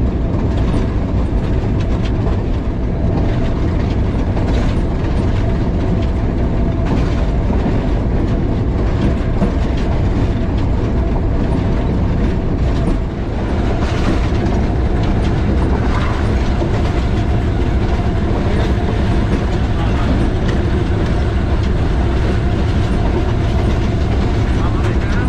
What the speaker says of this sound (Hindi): रेलवे स्टेशन पास थ्रू हो रही है ट्रेन